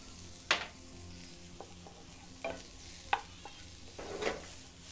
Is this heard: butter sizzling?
yes